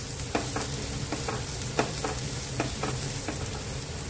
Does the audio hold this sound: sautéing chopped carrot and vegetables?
yes